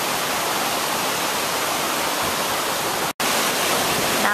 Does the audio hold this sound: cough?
no